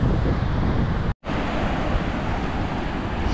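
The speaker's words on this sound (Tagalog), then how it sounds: "So malakas ang hangin ngayon." Strong wind roars in a steady broadband rush across the microphone outdoors, with a brief total dropout about a second in before the gusty blast resumes unbroken.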